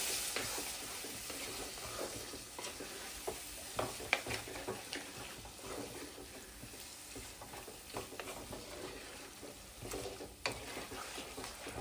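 Cooked beef is stirred into a sizzling masala for a Kerala-style spicy beef roast, with a steady frying hiss under repeated scraping and clicking of a spoon against the pan, close and continuous.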